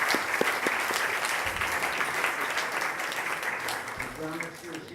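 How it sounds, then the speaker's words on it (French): Audience applause at a French history lecture, steady dense clapping filling the whole stretch with a brief voice near the end. "Donc je vous demande de les applaudir pour ce..."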